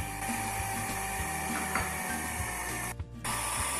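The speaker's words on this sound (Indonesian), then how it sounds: "Kita mixer dulu selama 5 menit dengan speed sedang" An electric mixer whirs steadily at medium speed through cake batter made with Sprite, a close, constant mechanical drone with a brief dip near the end.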